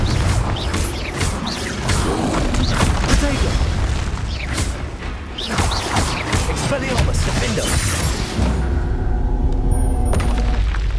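Explosions from the Confringo spell in the Hogwarts Legacy video game: heavy booms and whooshes over dense game sound effects, loud and continuous throughout, with a voice speaking over the action.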